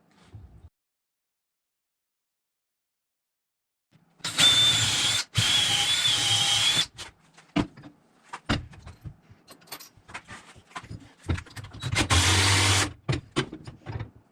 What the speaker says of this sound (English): the other hole I want to drill